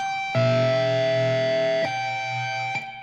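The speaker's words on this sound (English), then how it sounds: "So there I didn't pick it up, so you heard the 2 notes bleed together." Electric guitar notes sustain and overlap, each new pick joining the previous note still ringing, with an overdriven, effected tone.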